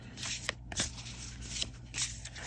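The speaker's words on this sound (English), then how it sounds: "start by giving this deck a little shuffle and picking a card" A tarot deck being shuffled hand over hand, with soft papery card slides and light taps in uneven bursts, close and quiet.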